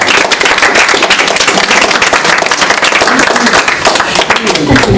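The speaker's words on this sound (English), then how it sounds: "So I will take my round of applause now." Applause from an audience after a talk about the Tallman Hotel, dense claps filling the whole stretch, loud and close, with some voices mixed in underneath.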